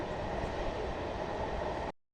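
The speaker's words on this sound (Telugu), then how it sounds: "మంచిలి రైల్వే స్టేషన్ నుంచి ఒక 2 minutes హాల్ట్ తర్వాత అయితే మా ట్రైన్ అయితే స్టార్ట్ అయిపోయింది" A MEMU passenger train pulls away from Manchili railway station, a dense, steady rumble of wheels and carriages heard from on board, continuous until it cuts off abruptly.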